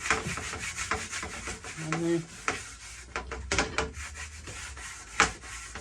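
A 1950s Slingerland Legion Heir snare drum shell is sanded by hand with sandpaper, giving irregular scraping strokes up close with brief pauses between passes.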